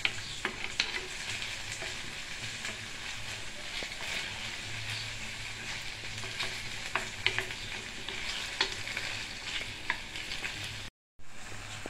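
Onion and nopal cactus frying in oil for a breakfast dish: a constant close sizzle and crackle with scattered pops and light stirring scrapes, no talk, ending with a very short dropout.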